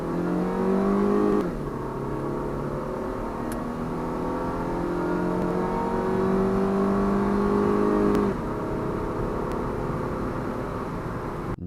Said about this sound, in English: this is flooring it in a 99 Civic LX